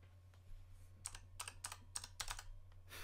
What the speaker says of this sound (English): And I'm going to type.